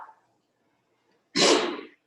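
A single loud sneeze bursts out during a quiet yoga class, sharp and close, briefly following a faint voice and then trailing off into silence.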